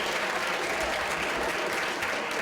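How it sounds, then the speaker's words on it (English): An audience at a startup challenge grand finale applauds in a dense, even wash of clapping throughout, steady and unbroken. "Let's give a round of applause for everybody that's helped with Entrepreneurship"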